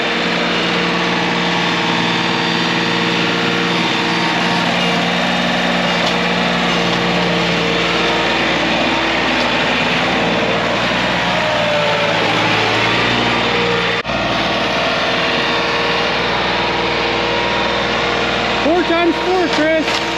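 Two chainsaws, a 592 and a 661, work on a woodpile, giving a continuous near engine drone with a steady high whine and slight shifts in pitch, sustained without pause across the whole stretch.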